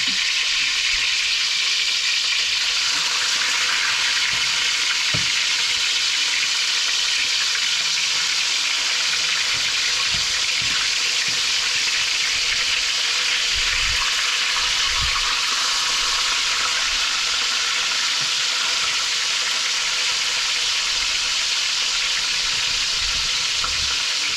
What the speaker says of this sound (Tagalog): mainit na yung mantika. Magsimula na tayong magprito. Ito tayo ng isda.